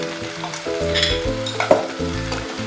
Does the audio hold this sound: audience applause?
no